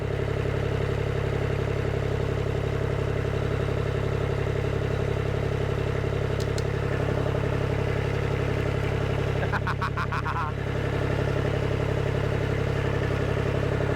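Kubota F2650 tractor diesel engine running after sitting for five years, a steady close idling drone with a constant low hum, a few brief rattling clatters near the middle, no talk.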